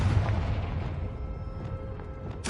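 Confringo fire spell from Hogwarts Legacy goes off as a deep, booming blast that decays into a rumbling tail, followed by faint crackles and a sharp burst at the end.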